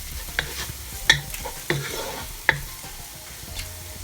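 Cured beef frying with added spices for Ghanaian tolo beef curry rice, a soft steady sizzle broken by several sharp stirring clanks and scrapes of a utensil against the pot, with no talking.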